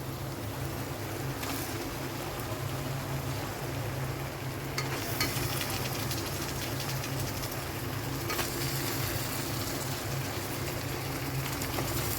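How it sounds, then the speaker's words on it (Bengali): Chicken pieces dropped into a hot pan for biryani, giving a steady, close sizzle and frying hiss that holds throughout with a slight rise partway through, no talking. "এবার চিকেনগুলো এক এক করে ছেড়ে দিই"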